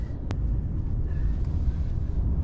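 Strong wind batters the microphone in a steady low rumble with a single sharp click early on and faint tonal traces underneath.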